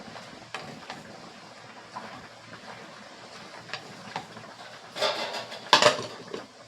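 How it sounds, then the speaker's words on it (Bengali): A spatula stirs chopped bottle gourd and egg in a pan, making soft scraping and metallic clinks in an uneven rhythm that grow louder and sharper toward the end, with no talking. "ভালো করে উল্টে পাল্টে নেড়ে নিতে হবে, যেন ডিমটা পুরো লাউয়ের মধ্যে মাখামাখি হয়ে যায়"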